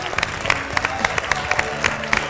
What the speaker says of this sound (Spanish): Fuerte el aplauso, fuerte para ellos, sí señor.